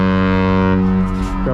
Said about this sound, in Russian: О, короткий гудок.